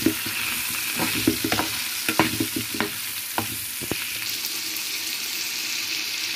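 Chicken pieces seasoned with salt and turmeric frying in a pan, a constant sizzle with a burst of utensil scrapes and knocks early on, then settling into a steady hiss.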